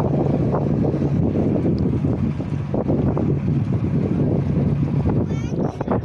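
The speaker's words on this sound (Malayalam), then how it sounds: "അങ്ങനെ നമ്മൾ ബോട്ട് കണ്ടൽക്കാടിൻ്റെ സൈഡിൽ കൂടെ പോയിക്കൊണ്ടിരിക്കുക" A boat cruises along the Ashtamudi backwaters past mangroves, its engine drone and water wash steady beneath gusting wind noise, with a brief faint chirp near the end.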